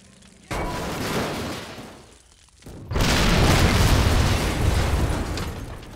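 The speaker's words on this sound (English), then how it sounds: "Come on, juicy explosion." A tank explodes in the wargame Men of War: Assault Squad, two loud booming blasts, the second heavier and rolling on into a long roaring rumble.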